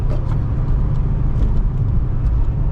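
A Nissan 350Z Nismo drives along a road with a loud, steady engine rumble and road noise, close and continuous, with no talk.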